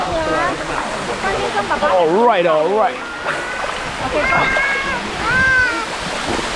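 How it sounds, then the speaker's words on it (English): Waterfall pouring into a natural swimming pool in Kanchanaburi, Thailand: a steady broadband rush of falling water runs throughout beneath a man's close, lively speech and exclamations. "let's go check out the waterfall"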